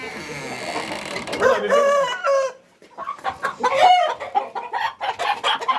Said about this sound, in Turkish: Bizim tavukları dışarı çıkardık. Şimdi çok ses olacak